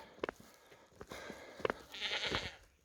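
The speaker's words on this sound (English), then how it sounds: "These are pet goats, they're really healthy." Close, fairly quiet sounds of dehorned pet goats: short rustles and thumps, then a brief nasal bleat near the end.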